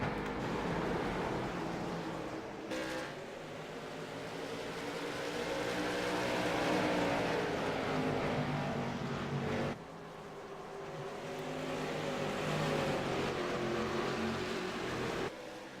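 Race cars run on the track at the American Diabetes Association 100 race, producing a continuous broad engine roar that swells and fades with two abrupt cuts, loud and steady throughout.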